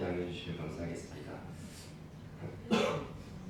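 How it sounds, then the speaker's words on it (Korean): A single cough from a man with a cold, sudden and close after a stretch of his own speech, during a Wednesday church sermon. "중간중간에 제가 기침을 하더라도 양해해 주시면 감사하겠습니다."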